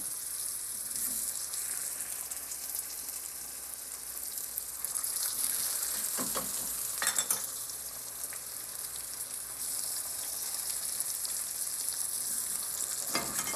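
Pear slices in a pan, a faint continuous hissing sizzle with a few brief clinks and scrapes midway, quiet and close, no voices.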